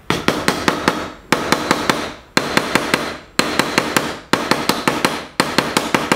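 Rapid, sharp metallic hammer blows cold-setting a soft copper rivet, in six quick rhythmic bursts with brief pauses between, loud and close.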